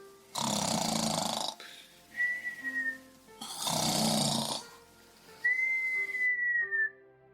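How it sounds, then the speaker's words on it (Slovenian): Two long, loud snores rumble in, each followed by a thin whistling exhale, in a slow, steady rhythm with nothing else around. "zaspal in pričel smrčati, da je kar odmevalo po hiši"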